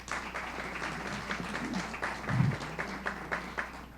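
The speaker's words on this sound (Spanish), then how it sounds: "Un aplauso para ella, por favor." Modest audience applause at a science event in Colombia, moderately loud clapping from a room of people with a brief voice rising through it midway.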